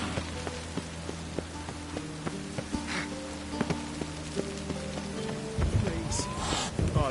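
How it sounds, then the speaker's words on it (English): Steady rain falls across a video game scene, a dense constant patter with faint distant rumbles and scattered drips running throughout, growing slightly louder near the end. "I like rain."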